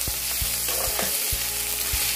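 Bitter gourd sabzi with coarsely pounded topping fries in a pan, with a constant loud sizzle. Several dull scrapes and knocks from stirring come at irregular intervals.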